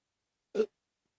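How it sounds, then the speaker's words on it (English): A single short, low burp sounds once out of silence, brief and fairly soft. "Whenever I do clearings, I burp a lot."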